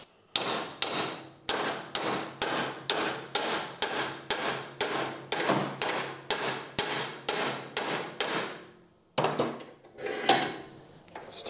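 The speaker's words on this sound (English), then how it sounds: "I'm gonna try hammering it." A bent metal bicycle brake boss mount bracket is struck with a hammer in a steady run of about twenty ringing blows, close and evenly paced, followed by a pause and some clattering.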